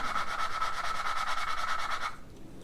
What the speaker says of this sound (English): sanding the valve to match the surface of the valve seat